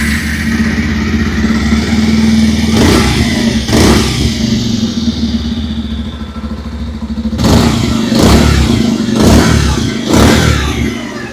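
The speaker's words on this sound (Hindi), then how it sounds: "पहले सुन लेते हैं पल्सर 125 की एग्जॉस्ट नोट।" A 2026 Bajaj Pulsar 125 motorcycle idles with a steady low exhaust note, then revs sharply twice, pauses, and blips the throttle in three quick bursts, loud and close.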